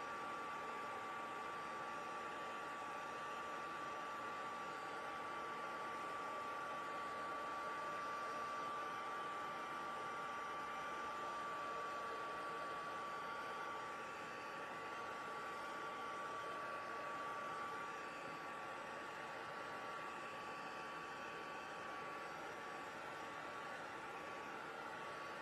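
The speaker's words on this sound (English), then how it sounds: "Let's just hit this with a heat tool, hopefully. It won't take long to dry this baby up." A heat tool blows a steady, even whoosh with a faint whine for nearly half a minute while drying ink on stamped hot-pressed watercolor paper, with no talking.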